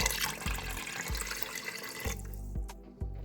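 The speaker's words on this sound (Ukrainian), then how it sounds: "Сюди ж додаю ще дві такі ж чашки води." Water is poured from a 300 ml cup into a pot holding dry bulgur for kutia, giving a close splashing stream broken by several soft low thuds as the flow lands.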